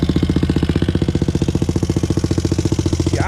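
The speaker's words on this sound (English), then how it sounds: "She idling perfect, y'all." A 2001 Honda TRX400EX ATV engine idles after a restart, a steady, loud, close thumping with an even rapid pulse and no voices.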